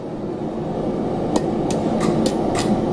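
Hammer blows on the tines of a hand-forged camping fork bent off the side of an anvil, five or six bright metallic strikes in a loose, slowing rhythm over low background noise.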